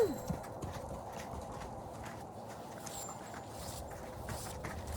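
An Arabian horse runs off, its hooves clip-clopping in a quick patter over steady outdoor background noise, fairly distant and soft throughout.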